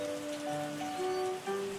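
Rain falling in the winemaking tycoon video game Terroir, a soft steady patter under sustained musical tones, short and moderately quiet.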